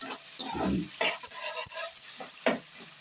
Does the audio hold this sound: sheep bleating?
no